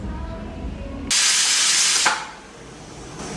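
A pressure cooker holding banana flower vents steam in a loud, steady hiss lasting about a second, then settles back into a quieter background.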